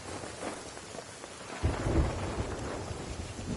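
A video game thunderstorm pours steady rain with a dense hiss, and a deep rumble of thunder rolls in partway through and keeps growling under the downpour, with no voices.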